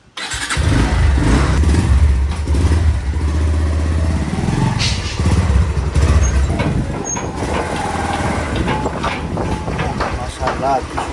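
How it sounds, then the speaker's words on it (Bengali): Motorbike engine droning steadily while riding along a road in Bangladesh, loud and continuous throughout with wind rush and a voice speaking over it. "এখন বাইকে করে যাব"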